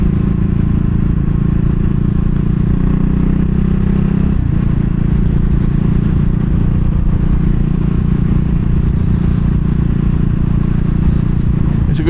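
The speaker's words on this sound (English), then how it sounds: "Actually probably can't hear because the exhaust is so loud." A 2022 CCM Spitfire Bobber motorcycle with a loud exhaust is being ridden, giving a close, heavy, continuous low engine drone mixed with road and wind noise, and one brief shift in tone partway through.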